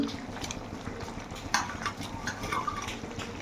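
Chicken curry with garam masala is stirred in a pan, a busy scraping and clinking of a spoon against metal over a steady low sizzle, close and continuous.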